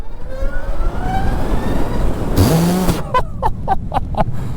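An electric motorcycle's rising motor whine climbs in pitch as it accelerates, then a rapid series of sharp pulses follows, close by and fairly loud.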